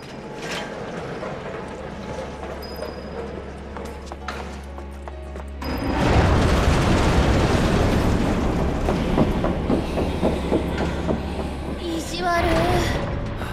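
Train crash in Final Fantasy VII Remake: a steady low mechanical rumble gives way around six seconds to a loud, dense burst of crashing, grinding metal and debris that stays heavy and roaring to the end, with game voices mixed in.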